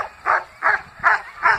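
A dog barks or yips four times in a steady rhythm, each call short and fairly loud, with brief quiet gaps between them and no talking.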